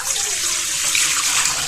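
Water poured steadily into a large mixing bowl for a leek and minced-meat pie dough, a continuous bright splashing rush at close range with no talk.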